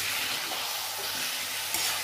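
Coriander chicken sizzles in a pan with a loud, steady, close hiss that holds throughout, broken by a brief clink near the end and no voices.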